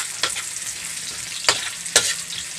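Chili and ginger sauté in a pan for a Filipino mussel (tahong) dish, a soft continuous sizzle broken by a few sharp stirring scrapes, close and fairly quiet, with no talking.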